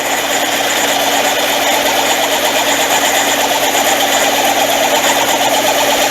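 A Frankford Arsenal case trimmer cutting a cartridge case with its dull original cutting head gives a loud, continuous motor whir and grinding hum, steady and close from start to finish with no talk.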